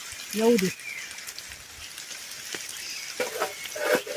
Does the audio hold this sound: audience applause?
no